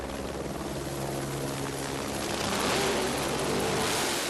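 A medevac helicopter at a drag racing track gives off a steady, dense roar of rotor and engine noise that holds even throughout and swells slightly toward the end, with no voices.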